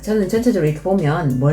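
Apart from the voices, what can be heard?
No distinct noise like a dog, phone or traffic.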